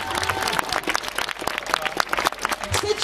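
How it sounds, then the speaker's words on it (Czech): Audience applause at a scooter raffle draw, steady dense clapping lasting throughout, with crowd murmur and some talking mixed in. "a poprosím o potlesk, velký potlesk"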